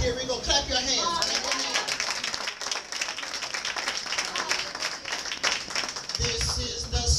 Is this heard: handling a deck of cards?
no